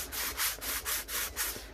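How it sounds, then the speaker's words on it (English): A sandpaper block is rubbed back and forth over a cured resin tumbler by hand, giving close, rhythmic rasping strokes, about seven even passes in under two seconds. "the sandpaper is taking the layer of resin off"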